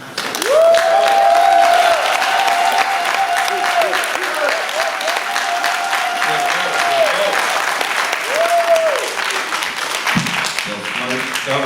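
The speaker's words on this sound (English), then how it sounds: "That was a good hand clap, y'all." Audience at a Kwanzaa celebration claps loudly and continuously, a dense sustained round of applause with sustained tones and voices heard over it, easing near the end.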